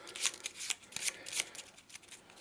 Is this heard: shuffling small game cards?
yes